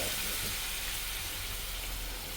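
Water heats in a pan for a brinjal coriander curry, a quiet continuous hiss and faint bubbling that holds steady and close without any talking.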